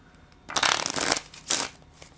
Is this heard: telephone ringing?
no